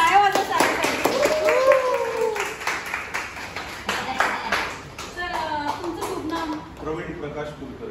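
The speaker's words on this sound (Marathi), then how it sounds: "आणि एकदा सगळ्यांनी टाळ्या वाजवून सांगितलं." A group clapping hands together at a small celebration, rhythmic claps running through the whole stretch alongside expressive talking voices, including a voice, with the clapping moderately close and steady.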